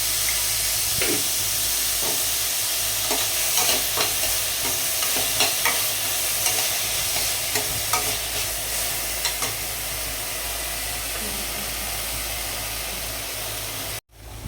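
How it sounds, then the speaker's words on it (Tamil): Onions with a little salt sauté in a pan for a mutton kuzhambu, a steady sizzle and hiss under repeated scraping stirs that fade to plain frying before stopping abruptly. "வெங்காயத்தை போட்டு கொஞ்சம் நல்லா வதக்கிக்கோங்க"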